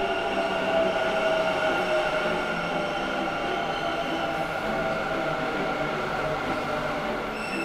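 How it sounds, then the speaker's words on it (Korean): Steady rumble and hum of a Bangalore metro train in motion, with a constant mechanical drone and faint high whine throughout, no voices. "두 번째 추천 맛집은 지하철 타고 갑니다."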